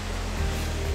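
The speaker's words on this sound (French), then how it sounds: "on voit le Rheinbachen Fall, la cascade" The Rheinbach waterfall cascade in Switzerland roars as a dense, steady wash of water noise, loud and unbroken across the whole moment, with no voices.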